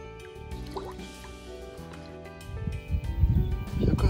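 A carp released back into the water during a carp fishing session, heard as splashing and sloshing water that builds louder near the end, with drips and liquid gurgles.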